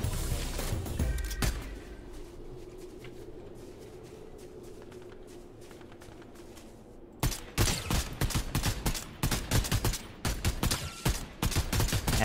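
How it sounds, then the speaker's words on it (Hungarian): Gunfire in Fortnite begins as scattered shots over a steady hum of game ambience. Partway through, heavy rapid bursts break out close by and keep going, loud and crackling, with no voices. "Ott lövöldöznek"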